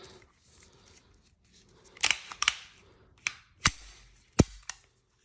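Beretta M9A4 pistol fitted with a suppressor fires several muffled shots at uneven intervals, each a sharp thudding crack with a short tail, against a quiet background.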